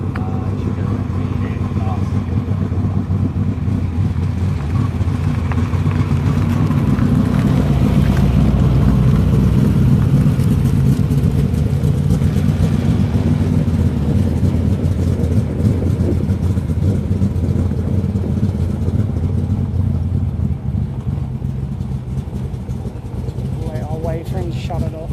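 A V8 dirt modified race car engine roars loud and steady for most of the stretch, swelling in the middle and easing toward the end, with wind buffeting the microphone.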